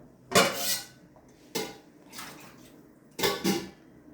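A spoon scraping and knocking around a metal pot while stirring curry, three distinct clattering strokes spaced about a second apart, close and fairly quiet with no talk.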